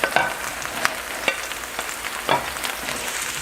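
Eggplant frying in olive oil in a pan: a soft continuous sizzle, broken by a handful of sharp scraping clicks and taps of a utensil against the pan at irregular intervals, close and moderately loud.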